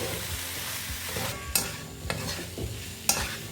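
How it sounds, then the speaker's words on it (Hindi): Long strips of paneer are stirred into a spice masala in a pan for paneer bhurji: soft scraping strokes over a low sizzle, with a few sharp clinks of the spoon against the pan. No one speaks. "सारे पनीर को हम मसाले में अच्छे से मिलाएंगे।"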